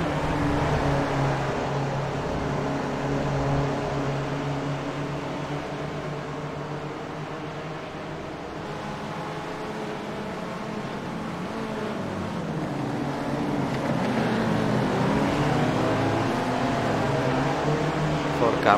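Race cars in the iRacing sim at Oulton Island, a steady droning engine tone with gradual pitch shifts running throughout, under a commentator's voice.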